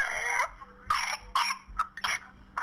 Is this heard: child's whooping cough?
yes